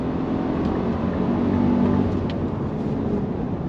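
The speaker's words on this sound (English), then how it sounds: "We're gonna go ahead and go on throttle from a dead stop." A 2025 Nissan Armada SL with small twin turbos pulls away hard from a dead stop, giving a steady, muffled low engine drone with a slowly rising tone, heard from inside the cabin without talk.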